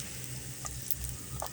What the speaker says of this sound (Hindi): ये 4 टिक्कियाँ डाली गई हैं छोटे से तवे पर